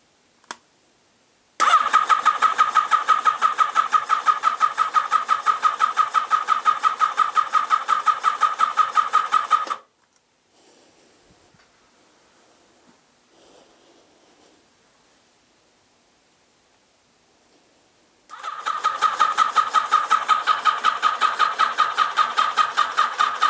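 A Yamaha XJR1300 motorcycle engine cranks over with a rapid, even starter whir for about eight seconds, stops, then after a quiet pause with faint handling noises cranks again, without catching.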